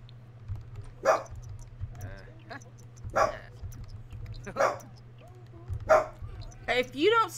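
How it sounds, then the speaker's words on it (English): Short barks and yips from a dog in a video game come in several separate bursts, moderately loud against a steady low hum, with talk mixed in between them. "if you don't stop barking, young lady, I'm gonna get upset with you."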